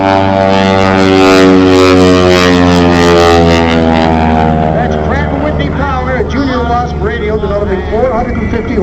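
A 450-horsepower propeller airplane of almost 5,000 pounds drones loudly at an air show, its steady engine tone shifting in pitch, while an announcer speaks over it.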